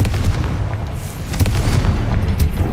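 A Confringo explosion spell in Hogwarts Legacy produces a loud, sustained rumbling boom with heavy low-end roar and crackling debris throughout.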